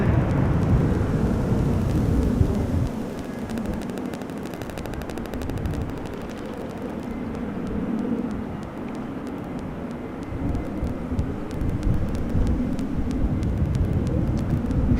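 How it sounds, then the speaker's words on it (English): A Transavia airliner arriving from Verona at Amsterdam Schiphol Airport makes a loud, sustained jet roar that rumbles and builds for the whole stretch, heard from fairly close with no talk over it. "Transavia coming in, arriving from Verona."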